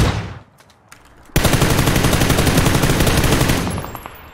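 Rapid automatic gunfire in PUBG during a ranked match: a few faint shots, then a loud, sustained burst of fast repeated rounds lasting about two seconds before tapering off.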